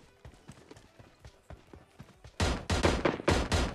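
A burst of five or six loud, sharp gunshots from PUBG Mobile, fired in quick succession with a rough rhythm, after a stretch of softer footstep-like taps and game noise.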